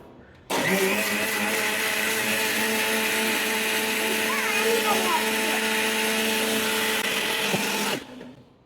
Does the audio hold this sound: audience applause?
no